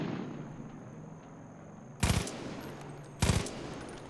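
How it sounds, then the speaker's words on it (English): Two sharp gunshots in the Far Cry 5 video game, spaced about a second apart, loud and close over a low ambient game background with no talking. "He's gonna shoot at me, right?"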